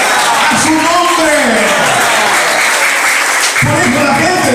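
A church congregation claps loudly and steadily, a dense mass of applause mixed with voices and shouts from the crowd at a lively service.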